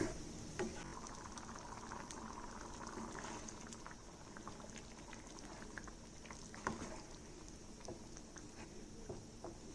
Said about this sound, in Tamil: நல்லா கொதிச்சிட்ருக்கு இன்னும் ஒரு நிமிஷம் ரெண்டு நிமிஷம் வச்சுட்டு எடுத்துலாங்க